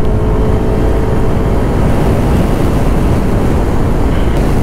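A Yamaha Aerox 155 MotoGP Edition scooter being ridden gives a loud, constant rumble heavily mixed with wind buffeting, unbroken throughout.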